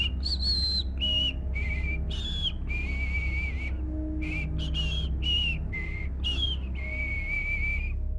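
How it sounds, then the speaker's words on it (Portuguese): A whistled melody at night, a cheerful tune repeated every night, made of sustained high whistled phrases with brief pauses over a steady low background hum, heard alone with no talking. "O assobiador tem a mesma melodia todas as noites."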